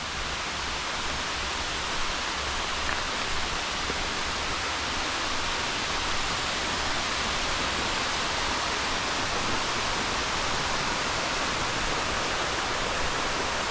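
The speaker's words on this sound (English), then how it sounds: "the volume is probably going to be pretty loud as far as the water running" Steady, loud rush of flowing water, a continuous broadband roar with no breaks, close by and filling the whole scene.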